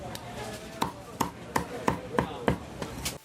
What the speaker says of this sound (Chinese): 还佫有这个剁鸡肉的声